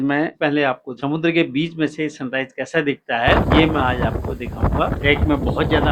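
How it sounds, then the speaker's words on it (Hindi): Strong wind gusting across a ship's deck at sea before sunrise, a loud broadband rush that comes in abruptly midway and continues under someone talking close to the microphone. "हवा चल रही है, आप लोगों को हवा की आवाज सुनाई दे रही होगी।"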